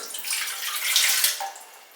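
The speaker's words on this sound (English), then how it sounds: "You're going to add your first ingredient, all liquids first, your water," Water poured into a bread maker pan as the first liquid ingredient, a steady, close splashing stream lasting about two seconds that tapers off at the end, with no talking.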